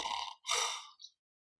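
Loud, deliberate breathing like snoring, with a strong breath out, a pause, then a longer rasping exhale and a brief catch of air, close and alone before silence.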